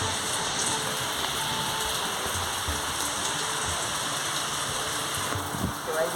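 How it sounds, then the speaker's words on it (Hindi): Heavy rain falls in a steady, dense hiss of drops striking nearby surfaces, continuous and close with no pauses. "तो गाइस यहाँ पे बारिश बहुत हो रही है,"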